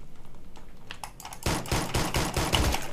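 Pistol gunfire in a PUBG-style mobile shooter game: a few sparse shots at first, then a rapid string of sharp, loud reports that keeps going to the end.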